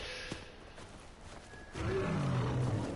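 A bear in the Far Cry Primal video game lets out a deep, rough roar that swells in the last second and a half after quieter game ambience, loud and close, with no speech over it.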